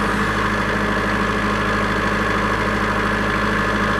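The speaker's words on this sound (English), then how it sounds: "To read the engine information, start the generator." Generator engine run from a Deep Sea 6110 control panel, holding a constant, loud idling drone with a steady low hum and even vibration, close by and unbroken, with no speech.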